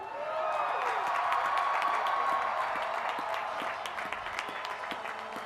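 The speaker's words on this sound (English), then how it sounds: "let's have a big round of applause for our graduates." Sustained audience applause for graduates at the Cal Poly Pomona College of Business commencement ceremony, a dense wash of clapping from a large crowd holding steady for several seconds and easing slightly toward the end.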